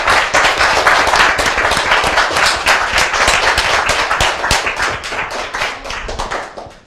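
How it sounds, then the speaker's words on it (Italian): Audience applause at a Bolzano event, dense steady clapping from many hands filling the room, loud and sustained, fading slightly at the end with no talk over it. "Fatemi un applauso così di incoraggiamento"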